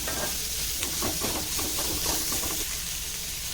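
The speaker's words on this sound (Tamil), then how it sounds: "இப்போ பாருங்கள் இதெல்லாம் இதில் சேர்த்து நல்லா வதக்கிக்கலாம்" Onion and okra sautéing in a pan, a steady broad sizzle with soft scraping stir strokes near the middle, close and moderately loud, no voices.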